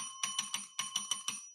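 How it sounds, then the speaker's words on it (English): A small bell rings in a quick burst of about eight bright metallic dings at an even rhythm, clear and close with nothing else audible around it. "Oh, it's a ring bell."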